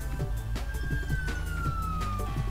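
In the SimCity 4 city-building game, a fire truck siren wails steadily at a fair distance as its tone slowly glides lower, set against a busy, rhythmic background of game sounds and music.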